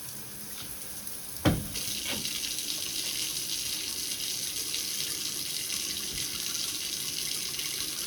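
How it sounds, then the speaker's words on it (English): Tap water runs into a slow-draining bathtub drain, a steady, even hiss of flowing water that lasts throughout, with one brief knock near the start. "run the water."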